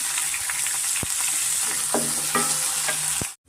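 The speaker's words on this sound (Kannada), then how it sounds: "ತರಕಾರಿ ಎಲ್ಲ ನಾನು ಎಣ್ಣೆಯಲ್ಲಿ ಫ್ರೈ ಮಾಡ್ಕೊಂಡಿದ್ದೀನಿ" Vegetables including capsicum, carrots, boiled peas and salt fry in oil for tomato rava khara bath, a steady close sizzle with clacks of a spoon stirring the pan before cutting off abruptly.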